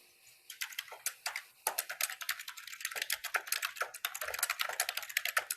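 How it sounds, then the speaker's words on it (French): Rapid, uneven clatter of a computer keyboard being typed on nearby, loud distinct keystrokes in bursts with short pauses, during a radio press call. "il y a un clavier qui se fait aller, c'est pas bon pour la radio, là."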